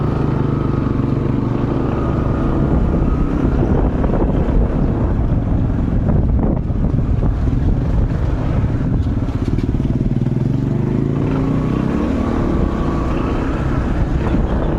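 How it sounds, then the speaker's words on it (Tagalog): A big motorcycle's engine rumbles steadily and loudly throughout, with wind buffeting the microphone and no talking. "Ganito talaga pag malaking motor eh."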